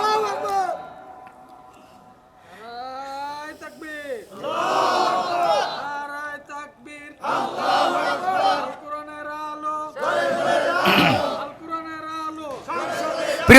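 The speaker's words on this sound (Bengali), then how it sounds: "কারা কারা চান তারা একটু হাত তুলে একটা স্লোগান দিয়ে আল্লাহরে" A large crowd at a religious rally shouts a slogan in unison, with raised voices rising in several loud, sustained bursts separated by short pauses, close and full.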